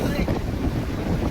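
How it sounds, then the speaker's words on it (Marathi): Strong sea wind buffets the microphone beside a boat on the coast where Koli fishermen work, making a loud, rough, low rumble with gusts surging throughout the short burst. "इथे वारा सुद्धा खूपच वाढलेला आहे, तुम्हाला समजत असणार."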